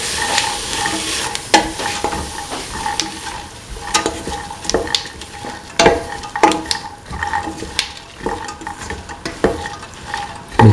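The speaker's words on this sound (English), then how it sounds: "Mix in the chickpea," Chickpeas are stirred and mixed in a hot frying pan with a snake gourd and coconut milk rice mixture, a steady sizzle broken by repeated scraping, clattering strokes of the spoon at an uneven rhythm, close up.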